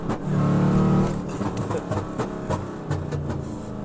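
A Dodge Challenger accelerates close by, its engine note rising loud and steady before easing into uneven surges over a few seconds.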